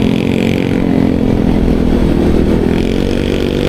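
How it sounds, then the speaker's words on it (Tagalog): Several motorcycles labour up a steep uphill road on a cold group ride, their engines droning loud and steady with a dense, rumbling drone and no talk throughout. "Kaya dito masusubukan ang tibay ng mga motor namin."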